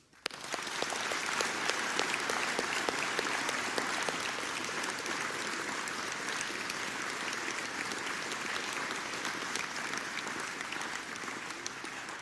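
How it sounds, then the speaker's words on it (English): A school speech day audience in a hall claps for award recipients, broad continuous applause of many hands that starts abruptly and carries on steadily at moderate level for the full length, with no voices over it. "So I'd like a round of applause, please"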